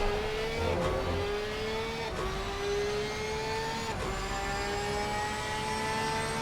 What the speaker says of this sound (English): just listen to that flat 6 though